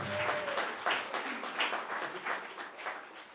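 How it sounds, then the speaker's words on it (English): Audience applause at a conference gathering of institutions, academia and youth networks, a steady patter of many clapping hands that swells and fades in waves over a few seconds. "Another round of applause to them"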